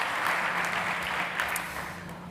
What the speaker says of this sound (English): OK, big applause.